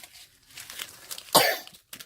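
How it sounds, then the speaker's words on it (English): A single sharp cough bursts out close by, with softer rustling and shuffling noises before and a brief faint sound just after. "Is it because you've got a bad cough today?"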